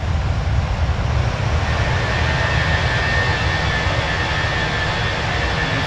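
An Airbus A380 arrives in a flight simulator game, heard as a steady, loud jet engine roar with a broad, even rumble that holds at one level throughout.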